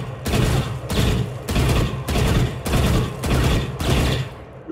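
Short bursts of gunfire from the shooter game Valorant, seven loud evenly spaced volleys of a few rounds each with brief pauses between, no talking over them.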